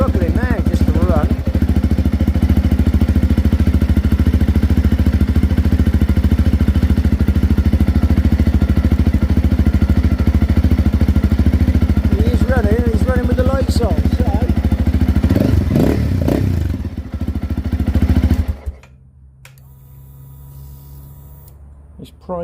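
Honda CRF motorcycle engine that isn't charging, running roughly and struggling to stay alive, a steady loud drone with uneven stumbles before it cuts out near the end, someone talking over it.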